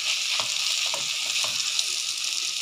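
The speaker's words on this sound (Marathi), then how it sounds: "सर्व भाज्या एकदम व्यवस्थित मंद आचेवरती परतून घ्यायच्या आहेत" Mixed vegetables for pav bhaji sauté over a low flame in a pan, giving a steady close hiss and sizzle with a few soft stirring scrapes and no talking.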